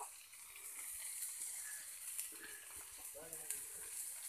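Pieces of taro (kochu) fry with spices in a hot pan, giving a quiet, steady sizzle with small crackles and occasional stirring scrapes.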